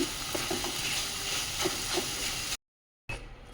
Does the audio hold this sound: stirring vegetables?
yes